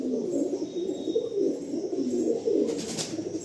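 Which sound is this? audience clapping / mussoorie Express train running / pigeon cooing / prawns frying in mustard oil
pigeon cooing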